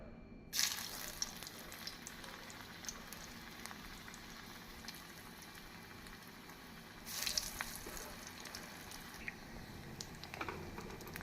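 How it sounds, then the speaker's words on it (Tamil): Bread-and-potato balls coated in rusk crumbs dropped into hot oil, giving a steady bubbling sizzle through the whole stretch with brief louder crackles near the start and again midway, with no talking. "உருண்டைகளை பிரட்டி எண்ணெயில் பொரிக்க வேண்டும்."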